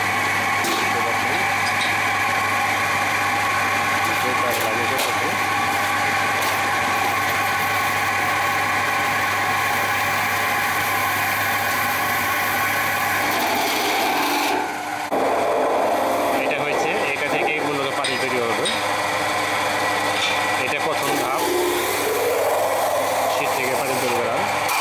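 A simple metalworking machine shapes sheet metal into cooking pots in a workshop, a steady loud mechanical drone with rubbing and scraping that shifts in texture partway through, with a voice talking over it.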